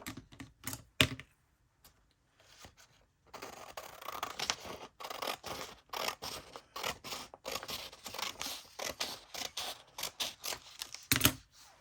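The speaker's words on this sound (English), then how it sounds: "I'm just going to cut this directly in half." Scissors cut a paper tag in half, a string of quiet, close snips and crisp crunches coming in quick irregular bursts with short pauses between.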